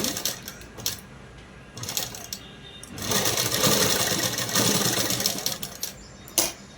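A sewing machine runs close by in bursts as it stitches small gathers into cloth, with short pauses and then a longer steady run.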